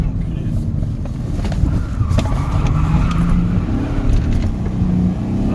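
BMW 530 drift car engine revving hard and continuously, loud and rough with a gritty rumble, heard close by outdoors with some wind and clatter mixed in.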